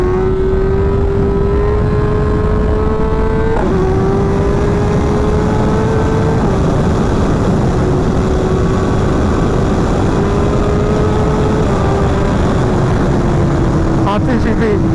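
A 2024 BMW M1000XR motorcycle with a 210 hp engine pulls hard at full throttle, its loud droning whine climbing steadily through the gears, with brief shift breaks, under heavy wind rush.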